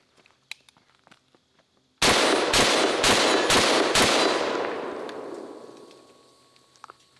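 Benelli M4 clone semi-automatic shotgun firing birdshot, five loud rapid shots in quick succession with echoing reverberation that fades out over a few seconds.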